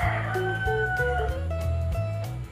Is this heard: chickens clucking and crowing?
yes